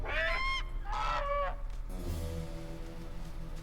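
Guard geese in an animated pony show honk loudly twice in quick succession, close and brassy, followed by a quieter stretch of background music.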